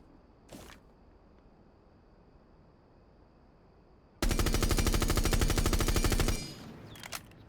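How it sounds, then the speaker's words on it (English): Thatcher's rifle fitted with a muzzle attachment and angled grip empties one full magazine in Rainbow Six Siege, a loud, dense automatic burst lasting about two seconds that stops abruptly, with faint clicks before and after. "Muzzle with angle, only shooting one mag."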